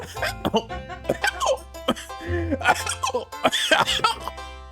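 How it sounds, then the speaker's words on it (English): Someone clears their throat over and over, rough coughing hacks broken by sudden sharp hiccups and strained vocal catches, loud and close, with no steady speech. "I can't clear my throat without hiccuping"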